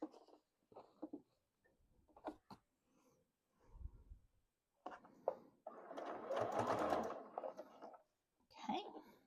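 A sewing machine stitches binding onto a quilted table topper in short bursts, with one longer, louder run of stitching in the middle. Quiet handling noises and soft breathing fall between the runs.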